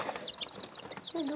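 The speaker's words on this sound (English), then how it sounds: "the rooster's kind of black and spotted" Chickens cluck in quick scattered bursts around a black and spotted rooster, close by, with a short squawking call rising at the end and light background noise.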